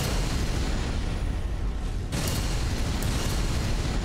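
A loud, roaring explosion in the video game Elden Ring Shadow of the Erdtree, a dense rumbling blast that runs steadily and then surges again with a sharp fresh burst halfway through.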